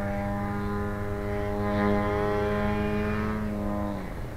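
A 40% scale SBach RC model airplane flies past, its engine a steady droning buzz that swells louder near the middle and then fades slightly as it passes, with no talking.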